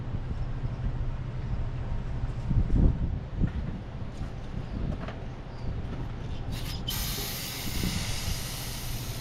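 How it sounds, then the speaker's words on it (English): A short burst of ether or brake cleaner sprayed into the engine of a three-wheeler that sat unused for four years, heard as a faint, steady hiss of aerosol over quiet background noise. "I was just gonna try giving it a little shot of ether, brake clean, whatever."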